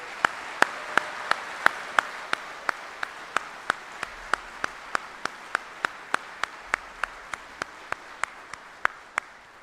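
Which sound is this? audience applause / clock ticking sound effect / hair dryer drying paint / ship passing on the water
audience applause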